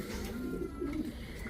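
A pigeon coos softly close by, a few low rolling warbles over faint background hiss, with no talking.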